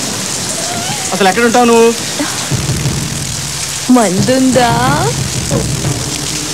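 Steady heavy rain hisses throughout a Telugu film scene, a constant wash of sound under two voices speaking dialogue.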